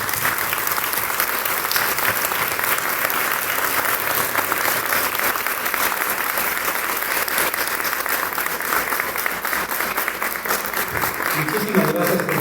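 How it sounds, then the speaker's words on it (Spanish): An audience applauds Dr. Sergio after his talk on health and happiness: dense, steady clapping from many hands lasting throughout, with no pause. "vamos a darle un fuerte aplauso a nuestro Sergio"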